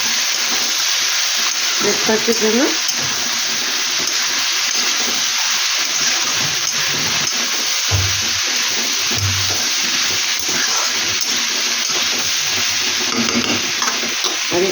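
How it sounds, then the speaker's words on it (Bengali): Potatoes frying in a pan for breakfast make a steady, close, continuous sizzle throughout, with occasional clinks and stirring scrapes while someone talks over it. "এই যে এখানে ভাজছি আলু"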